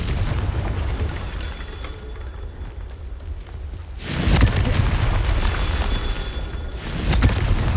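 Two booming fire-spell explosions from Confringo in the video game Hogwarts Legacy, each a sudden broadband blast followed by a rumbling tail, loud and close, against steady game ambience.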